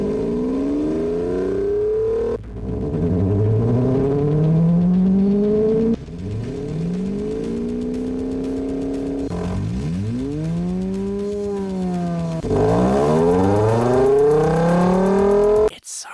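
Placeholder car engine sounds from a video game cycle through several loud revving passes, each pitch climbing and falling sharply with abrupt cuts between segments, with no talk over them.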